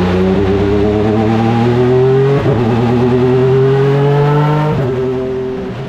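Honda CR-V hybrid racer with an IndyCar engine accelerating hard on a racetrack, a loud, close, rising engine roar climbing through quick gear shifts, about three upshifts in a few seconds.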